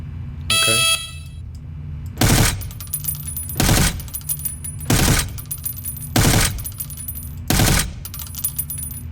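Rifle gunfire on a firing range in the America's Army game: a short rapid burst near the start, then five loud single shots spaced roughly one and a half seconds apart, each ringing briefly over a steady low background hum.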